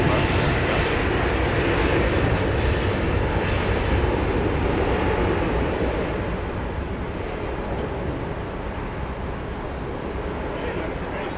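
An airliner at London Heathrow Airport roars steadily throughout, a broad, loud engine rumble that eases slightly toward the end, with people talking over it.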